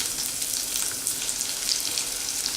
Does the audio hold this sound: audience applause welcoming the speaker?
no